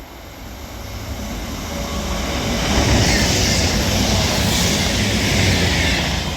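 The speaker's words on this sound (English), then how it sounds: "Now passing through is going to be another cross-country Voyager for Manchester Piccadilly from Banbury." A Cross-country Voyager diesel train passes through Longport station heading toward Manchester Piccadilly, its engine roar and rail rumble swelling from a moderate approach to a loud, sustained pass close by, with no talk.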